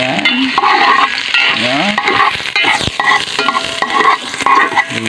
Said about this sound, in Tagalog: Igigisa lang natin mga tol. Pagkagisa natin, siyempre unahin natin ay si luya.